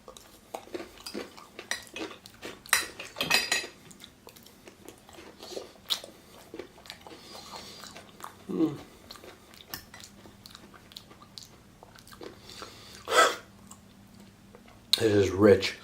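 Cutlery clinks and scrapes against a dish while someone eats a Tim Tam banana split with Milo ice cream and raspberries, giving scattered close taps and chewing with a short voice near the end.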